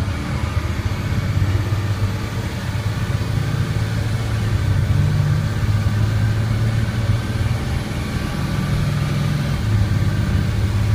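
An International Thomas school bus's DT466 diesel engine runs steadily with a deep, continuous rumble, close and loud, with no talking.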